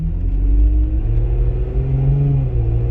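A Jeep Wrangler JK fitted with 37-inch tires and regeared axles climbs a hill at elevated RPM, its engine a steady, loud droning rumble with slowly rising and falling tones heard from inside the cab, no talking.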